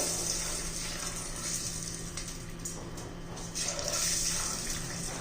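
Steady rushing of hot water being poured into a pressure cooker for jaggery lapshi, a continuous splashing flow with a low hum in the background, no voices.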